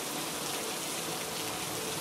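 Steady rainfall hissing evenly and continuously at a moderate distance, with no voices over it.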